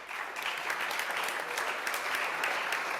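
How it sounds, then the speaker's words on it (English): Steady applause from a room full of people at a Rotary Club meeting, sustained and even throughout, with no voices on top of the clapping. "tell these people to hold their applause"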